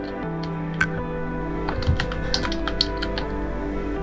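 Quick light taps on a computer keyboard come in a short burst as a name is typed, the clicks close and crisp over a steady low hum.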